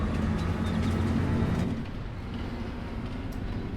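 A train rumbles and rolls along in the video game Farming Simulator 22, a steady low-frequency drone that drops slightly in level partway through and continues alone without speech.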